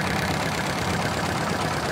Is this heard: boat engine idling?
yes